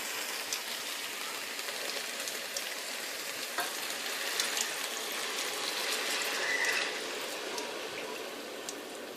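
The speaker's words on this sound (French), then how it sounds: "Et on va rajouter donc le jus de tamarin que j'avais préparé." Tamarind juice is poured into a hot pan of South Indian pulli kuzhambu, tamarind sauce with vegetables, producing a steady, close sizzling hiss that swells slightly and continues throughout with no talking.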